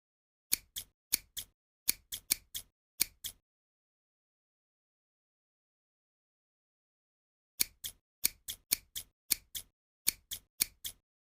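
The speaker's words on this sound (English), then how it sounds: "Just look at how nice and sharp these scissors are." Crisp, rapid snips of sharp scissors trimming eyebrow hair close up, in two quick bursts separated by several seconds of silence.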